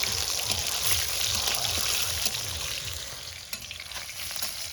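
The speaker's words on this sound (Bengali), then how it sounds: "ডিম দিয়ে দিলাম তেলে" An egg fries in hot oil in a wok in a village kitchen, giving a loud, continuous crackling sizzle with the faint rhythmic scrape of stirring beneath it and no talk.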